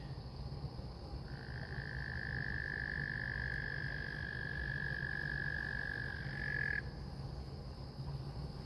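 A single sustained, trilling frog call rings out steadily for several seconds at night in suburban Stockbridge, Georgia, over a dense background of insects and low rumble.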